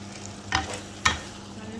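Chickpeas stirred into a frying masala for channa masala, giving two short scraping stirs about half a second apart over a faint, steady sizzle, with no talking.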